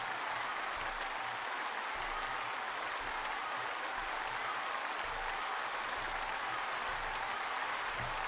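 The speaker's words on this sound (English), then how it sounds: "very energized guests are done very quickly with clapping" Game crowd of guests applauding at a desert dunes venue in a management sim, a steady dense wash of clapping running the whole time with no voices over it.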